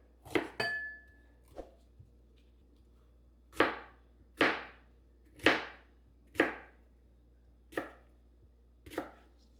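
A bell pepper is sliced with a knife on a cutting board: about eight crisp, separate chops with uneven pauses between them, close and clear with no talking.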